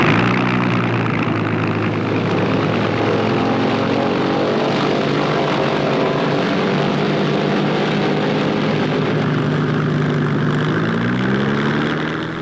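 A propeller plane drones loudly and steadily overhead, its engine tone holding close and even, then shifting slightly in pitch near the end.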